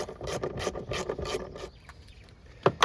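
Ratchet wrench loosening 10 mm tail light bolts on a first-generation Toyota Sequoia, a close run of rapid rhythmic clicks, then a pause and a couple of sharp metallic knocks.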